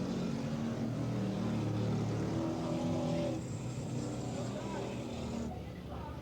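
A 1992 street stock race car at Brighton Speedway roars with a rough, uneven engine note amid other cars on track, loud and steady, with an announcer talking over it.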